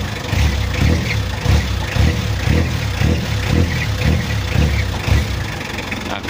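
Mitsubishi L300 van engine, upgraded with a 12 mm rotor head, starts and settles into a loud, rough idle with a regular chugging pulse near the microphone.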